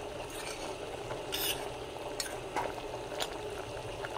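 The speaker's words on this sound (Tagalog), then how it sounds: "hayaan lang muna natin kumulo to guys" Pork jowl Bicol express simmers in a pot, a steady low bubbling with soft sizzle, broken by a few brief clinks and stirs.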